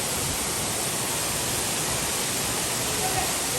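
Steady broadband rush of a waterfall near the Neelkanth Mahadev temple outside Rishikesh, Uttarakhand, a continuous loud roar filling the whole clip with no breaks.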